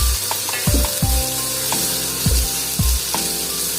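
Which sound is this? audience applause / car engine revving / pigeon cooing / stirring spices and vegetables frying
stirring spices and vegetables frying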